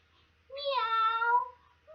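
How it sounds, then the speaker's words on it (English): A cat gives a single clear, close meow that rises and falls over about a second, in otherwise quiet surroundings. "Yes, it's a cat."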